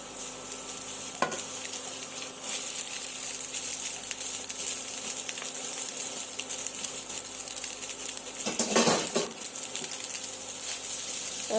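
Leftover rice fries in a pan with potato, onion and a cracked egg, sizzling steadily while a utensil scrapes and stirs, with louder stirring clatters near the start and again later.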